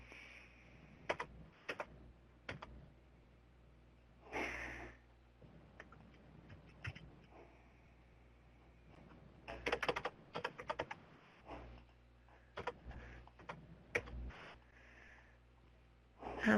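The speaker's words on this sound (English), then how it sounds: "It looks like a couple more people are typing." Several people typing on computer keyboards during an online health-outcomes webinar, bursts of clicky keystrokes starting and stopping in irregular clusters over a quiet background, with no voices.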